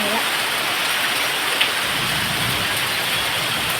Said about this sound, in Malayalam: മഴയുണ്ട് കേട്ടോ വീണ്ടും മഴ പെയ്യുന്നുണ്ട്